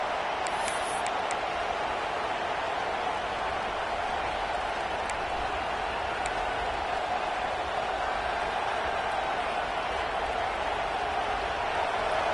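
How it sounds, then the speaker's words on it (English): A home stadium crowd in the College Football 26 video game sends up a steady, wide roar that holds level throughout, a constant wall of massed noise. "Here comes this home crowd as the defense tries to get off the field on 3rd down"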